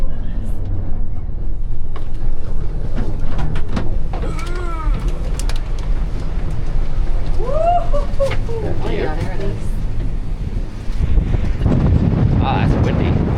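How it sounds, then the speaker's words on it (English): Strong wind roars across the microphone at a mountain top beside a gondola station, a constant loud rumble, while people talk over it. "you'll hear just how windy it was when we exited the gondola car"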